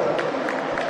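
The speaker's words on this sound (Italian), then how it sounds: "l'applauso particolarmente" Home crowd applauding at a Serie A1 volleyball match as Casalgrande Padana takes the court, a dense wash of clapping filling the hall, continuous and fairly loud.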